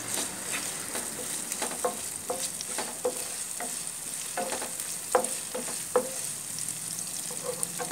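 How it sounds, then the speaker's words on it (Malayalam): Ginger and garlic frying in oil for a lemon pickle, a soft steady sizzle with scattered clicks and scrapes of a spoon stirring the pan, fairly quiet and close, no voices. "ഇഞ്ചി വെളുത്തുള്ളി ഒരുവിധം മൂത്ത് വന്നിട്ടുണ്ട്."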